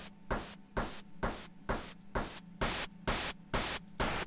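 Looped synthesizer noise oscillator pulsing in a steady rhythm: nine evenly spaced bursts of bright static hiss, each swelling and cutting off, loud and alone with no talking.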